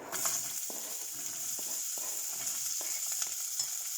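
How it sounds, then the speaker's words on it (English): Chopped onion frying in a pan, a steady close sizzle and hiss with occasional soft knocks of stirring, moderately loud and uninterrupted, no voices. "And we'll just let the onion cook."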